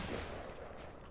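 Rapid gunfire in Fortnite crackles in a dense, loud burst for about a second, with shots blurring together rather than standing apart.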